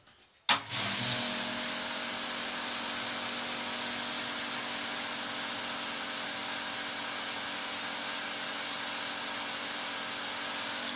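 A swimming pool filter pump motor, set to rinse mode, switches on after a brief quiet moment and then runs with a steady, even hum and whir.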